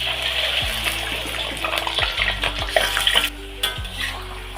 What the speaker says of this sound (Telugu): ఆయిల్ వేడైందండి. ఇప్పుడు మనం చికెన్ వేసుకుందాం.